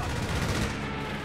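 Continuous rattling machine-gun fire from a strafing run in a tank battle video game, dense and loud throughout with no clear break.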